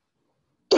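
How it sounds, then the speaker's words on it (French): A single short cough bursts out suddenly at the very end after near silence, close and fairly loud. "Excusez-moi, là, je tousse."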